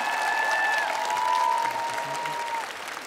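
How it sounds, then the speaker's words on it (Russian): Studio audience applause at a televised talent competition, a steady wash of clapping under sustained tonal music with a faint voice in the background. "Аплодисменты, друзья."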